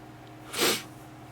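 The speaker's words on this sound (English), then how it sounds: "Sorry about the sniffles." One quick, close sniff of a runny nose, a single short breathy rush with nothing else around it.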